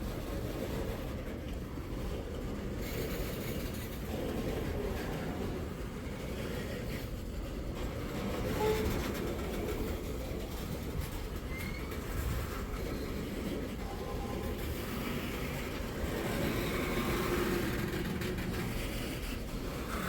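A slow Wheeling & Lake Erie train rumbles steadily at a moderate distance, a low continuous roll of wheels on track with faint rattling throughout.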